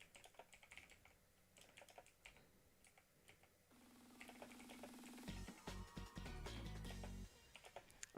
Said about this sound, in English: don't mind me while I'm typing to myself